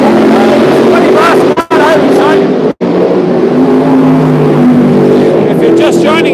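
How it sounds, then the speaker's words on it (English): Race car engines start up, rumbling and revving loudly nearby at Mondello Park racing circuit while someone talks over them, with a couple of brief sharp cutouts in the noise. "These guys are all starting up. They're going out next, so they're starting to start their engines."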